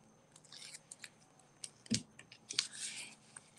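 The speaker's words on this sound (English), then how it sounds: "I'm just going to trim this off" Scissors snip through card paper, trimming an edge for a bay window fold holiday card; a short run of quiet, crisp close cuts with small clicks between them.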